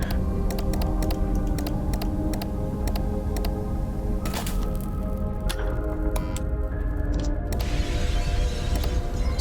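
Rapid mouse clicks sound during play of the horror fan game Five Nights at Wario's Deluxe, sharp and close, in irregular bursts over a steady background hum, with no talk.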